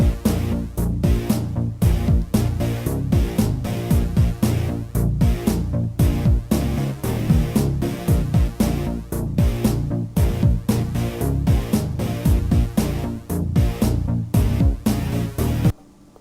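Loud, driving electronic background music from the arcade shooter Super Crossfire, with steady rhythmic pulses and a dense beat running continuously, alone without talk.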